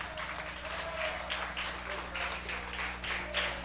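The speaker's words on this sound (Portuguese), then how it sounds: "Você pode aplaudir o Senhor aqui nessa noite?" A church congregation claps together at an evening conference service, a dense patter of many hands with rhythmic bursts under a low hum, moderately loud and continuous.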